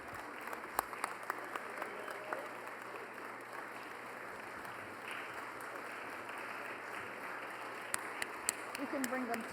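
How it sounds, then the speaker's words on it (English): Faint, distant applause from an awards ceremony crowd, a steady low wash of clapping under quiet room noise with a few sharper claps standing out. "keep the applause going"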